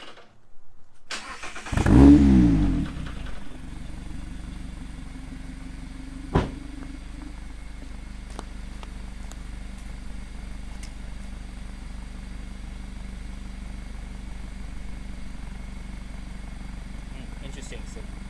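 A Mazda ND Miata with a baffle insert in its exhaust starts with a brief loud burst, then settles into a steady low idle that continues to the end, with one short blip partway through.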